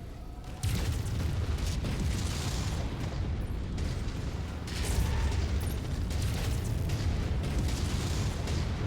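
Missile explosions in MechWarrior 5: Mercenaries, with a steady roar of mech combat and dull booming impacts rumbling low under a constant mechanical drone, with no break in the noise.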